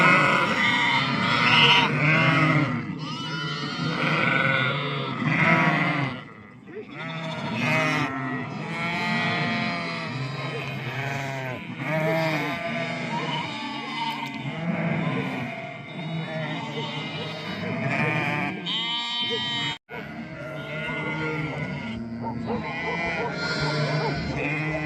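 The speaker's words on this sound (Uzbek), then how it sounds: "Mana qo'zlar." Sheep and lambs in a spring flock bleating, with many overlapping calls of varied pitch running continuously and close by, with no pause across the whole stretch.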